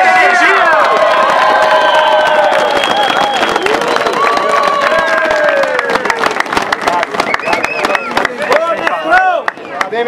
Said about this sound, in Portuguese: E uma salva de palmas com muita energia!